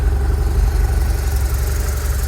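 A 2009 BMW R1200RT SE motorcycle engine idles close by, a steady, low, continuous rumbling hum with a faint rhythmic pulse and no other sounds.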